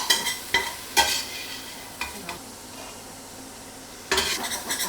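A slotted spoon scrapes and clinks against a pan while beef for bourguignon is scooped out with the heat turned off. Sharp metallic scrapes come in bursts amid a faint sizzle, with no talk.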